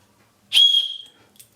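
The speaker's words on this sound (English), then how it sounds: "I have a whistle." One loud, piercing emergency whistle blast, shrill and sustained for about half a second before tapering, followed by a faint brief echo.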